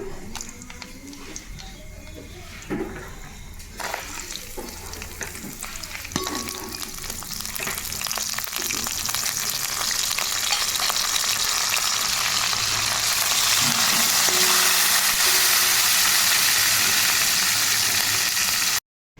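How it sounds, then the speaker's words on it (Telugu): Tempering spices and dried red chillies crackle and sizzle in hot oil for tamarind dal, growing louder and denser over time, with occasional scraping of a spoon against the pan. "వేడివేడిగా చింతకాయ పప్పు తాలింపు పెట్టేశాను"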